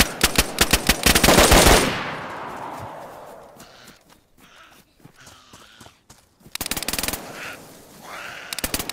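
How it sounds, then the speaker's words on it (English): Video game gunfire in a zombie survival match: loud, rapid automatic bursts at the start, a lull with quieter movement, then more close bursts of rapid fire near the end. "Hey, who else is shooting over here?"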